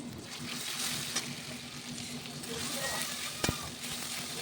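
Tomato and green chilli fry in a pan with a soft, steady sizzle and an occasional stirring knock, fairly quiet and continuous.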